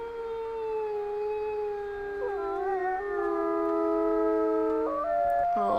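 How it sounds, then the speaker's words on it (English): A wolf in the game Red Dead Redemption 2 gives one long, sustained howl, steady and clear, then shifting pitch and breaking off near the end, alone against a quiet background. "maybe do a howl, because our affinity needs a little bit of lifting"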